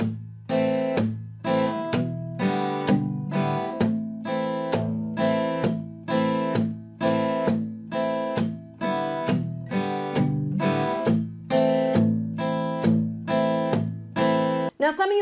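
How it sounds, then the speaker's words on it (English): An acoustic guitar plays a song with muted percussive strumming, sharp rhythmic slaps alternating with a ringing bass line, played alone, close and loud, in a steady pulse. "we're doing that kind of muted strumming pattern, how it makes that bass line really, really ring out"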